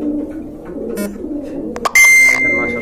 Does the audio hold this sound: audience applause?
no